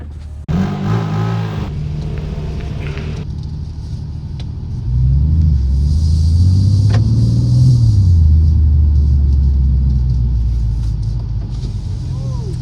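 A BMW M2 engine rumbles loudly from inside the car, rising in a strong rev from low idle into sustained acceleration, with brief talk near the start.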